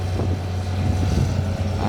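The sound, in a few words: Hitachi ZX200-5G excavator, Isuzu six-cylinder turbo diesel running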